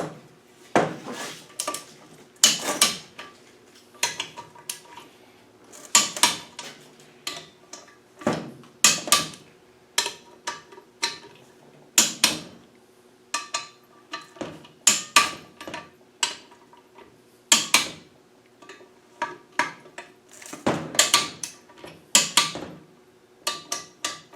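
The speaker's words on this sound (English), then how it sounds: "So we're going to tighten all the bolts up." A ratchet tightens the bolts on an LT230 transfer case differential in quick bursts of metallic clicking and clanking, with short pauses between the runs, close by.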